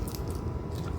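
A bite into a crunchy nacho chip loaded with beef, cheese, onion, tomato and pepper, heard as a dense, close crunching and chewing crackle.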